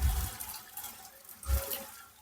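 Dirty sewage water pours from an upper drain into a house veranda in Junagadh, a steady splashing fall with two heavier surges near the start and middle.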